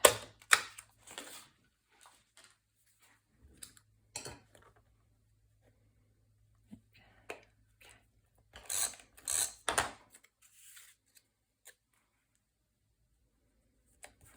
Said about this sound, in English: make space for me to get in and punch this out